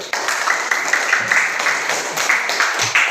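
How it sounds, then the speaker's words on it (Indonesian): A children's class applauds, a busy burst of close clapping that continues steadily with uneven accents throughout. "Tepuk tangan dulu"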